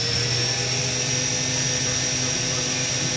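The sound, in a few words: Hurco VMX-42 vertical machining center spindle spinning up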